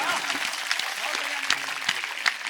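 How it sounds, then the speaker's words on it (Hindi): An audience at a Hindi comedy show claps, a dense, continuous patter of applause while a voice speaks over it throughout. "तालियां जोरदार बजाओ"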